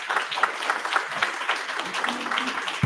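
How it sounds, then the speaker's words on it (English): A trade show audience applauds a speaker, a sustained patter of many clapping hands in a large room, moderately loud and fairly even, with a voice faintly mixed in. "Please give him a round of applause."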